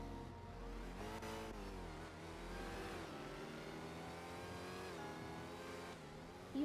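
A car engine running close by, revving with its pitch climbing and falling in smooth swells, loud and steady for several seconds with no talk over it.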